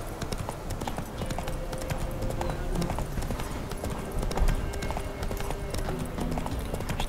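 Rapid horse hoofbeats clatter in a steady galloping rhythm throughout, moderately loud, over a low ambient background in the video game The Witcher: Wild Hunt.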